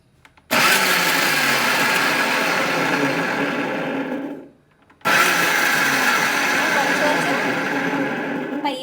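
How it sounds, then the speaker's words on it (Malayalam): A mixer grinder run on pulse mode whirs loudly while blending garlic mayonnaise. It makes two long, steady grinding bursts separated by a brief pause, close and dominant. "നമുക്ക് മിക്സിയിലിട്ട് ഈ പൾസ് മോഡിലേക്ക് ആക്കിയിട്ടാണ് നമ്മൾ അടിക്കുന്നത്."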